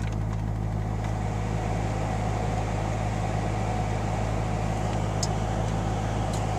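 A Corvette C5 custom car drives on the road with a steady, even engine drone and tire roar, continuous and fairly loud, with no talking.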